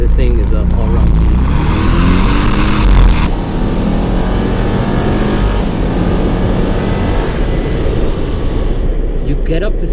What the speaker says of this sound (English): You get up to speed so quickly, it's mind-numbing.